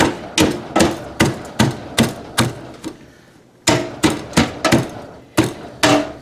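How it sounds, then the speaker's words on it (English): Shredded cabbage pounded in a crock for sauerkraut: about a dozen loud, close, thudding blows in a steady rhythm, with a brief pause partway through, and no talk. "you want to pound this enough so that it starts to bring the juice"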